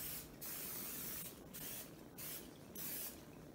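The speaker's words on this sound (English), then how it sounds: "So we're going to use nonstick spray and gently apply it so that the cake doesn't stick to the pan." Nonstick cooking spray is applied to a square cake pan for a chickpea chocolate cake, heard as four short, close hissing bursts spaced evenly apart with quiet pauses between them.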